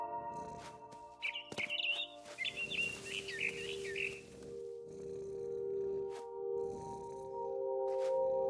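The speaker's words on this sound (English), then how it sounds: "Then I heard chirping outside my window." A barn swallow in a video game chirps in quick twittering bursts, fairly close, above a low steady ambient drone with soft thuds.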